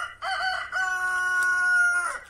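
A rooster crows loud and close in one long, drawn-out call with a brief break near the start, heard on an olive farm where the chickens are kept shut in.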